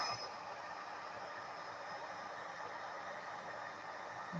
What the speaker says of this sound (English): you heat it with your heat gun.